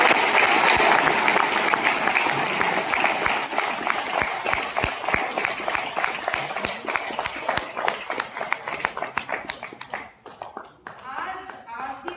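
Loud, sustained applause from a large crowd fills the room, thinning out toward the end, with voices faintly mixed in underneath.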